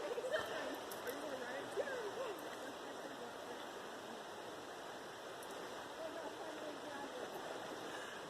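A river in the rainforest rushes and burbles steadily at moderate distance, with a few faint chirps and brief speech-like sounds early on.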